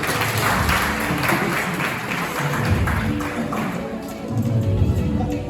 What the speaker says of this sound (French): On applaudit non ça, mesdames et messieurs.